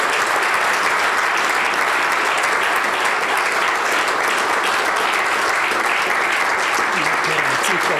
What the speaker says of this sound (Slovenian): En aplavz za pogum.